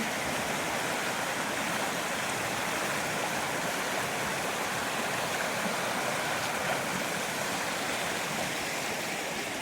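A backcountry waterfall on a creek in Georgia roars steadily as a dense, unbroken wash of falling water, close and loud throughout with no voices.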